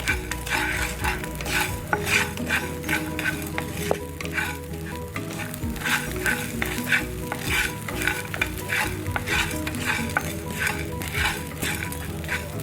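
Rasam powder spices with asafoetida and salt dry roasting in a pan, a spatula scraping and stirring in a steady, repeated rhythm over a faint crackle, close and continuous with no talking.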